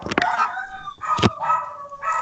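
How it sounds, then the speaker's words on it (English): Dogs barking somewhere outside during an online class debate, a few sharp barks and drawn-out yelps and howls in quick bursts, fairly loud and close to the microphone, with no talking over them. "somebody has some dogs around you"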